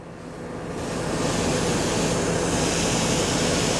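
A steady broadband hiss of air rushing out, building over the first second then holding constant, loud and close like a leak blowing through.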